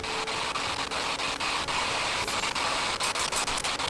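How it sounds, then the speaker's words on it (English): Hair dryer running in another room, a steady, even whooshing hiss that continues unbroken throughout at moderate volume. "She's got her hair dryer going."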